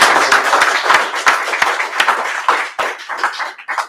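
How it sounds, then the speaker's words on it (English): An indoor audience at a workplace sustainability talk claps steadily for a few seconds. The clapping is dense and close, then thins into scattered individual claps as it fades out. "I'm going to ask for another round of applause"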